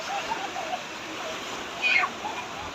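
Sea waves at a Moroccan beach where swimming is banned make a continuous rushing, hissing wash with a brief louder surge, while voices speak faintly over it.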